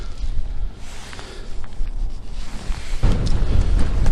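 Wind on the Fife coast buffets the microphone as a rough, gusty rush that rises and falls. It swells to a louder, fuller blast near the end.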